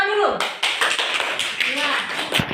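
A classroom of students claps together during an Indonesian geography lesson, a quick run of sharp, evenly spaced hand claps with voices chattering and calling out over them.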